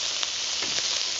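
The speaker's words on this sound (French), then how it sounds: "Au pourtour, j'ai mon lapin qui continue de cuire." Rabbit pieces cook around the edge of a paella pan for a Valencian paella campesina, giving a steady loud sizzle with a few brief crackling pops and nobody speaking.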